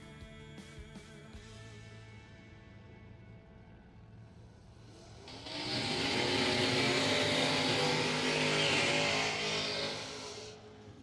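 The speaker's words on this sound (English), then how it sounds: "Nice long smoky burnouts for both." A pair of bracket-racing drag cars at a racing event build up to long smoky burnouts, engines roaring loudly from about halfway through and holding a sustained, raspy wail before easing off near the end.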